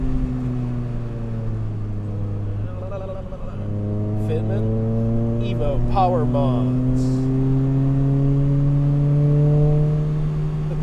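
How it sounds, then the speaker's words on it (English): Car engine revving and pulling, with rising and falling harmonic sweeps heard at moderate level under people talking, as on a podcast about the Toyota Celica. "The car sounds great through these headphones."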